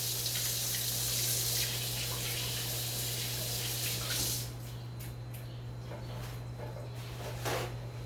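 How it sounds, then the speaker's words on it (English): Warm tap water runs steadily into a sink while hands are washed, a continuous close splashing rush that softens midway as the hands move through the stream, with a low electrical hum beneath. "let me wash my hands"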